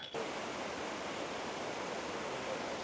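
A waterfall along the Inca Trail gives off a steady, full rushing roar, close and unbroken from start to finish, with no voices over it.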